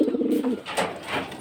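Pigeons coo close by in a low, throaty burst at the start, followed by softer rustling and faint shuffling sounds.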